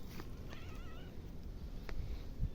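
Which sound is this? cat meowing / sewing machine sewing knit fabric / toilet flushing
cat meowing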